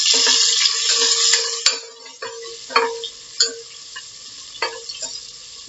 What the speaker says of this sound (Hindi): मैं इसके अंदर प्याज और 2 हरी मिर्च जो मैंने चॉप करके रखी थी वो डालूंगी, थोड़ा कड़ी पत्ता।